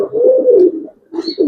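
A Giribaz pigeon, a silver male, coos loudly and close by, a drawn-out throaty rolling call followed by a short pause and two more brief coos.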